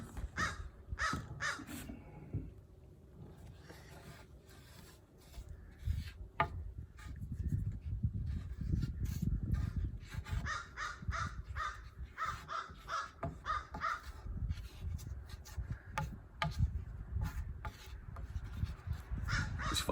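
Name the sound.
crow cawing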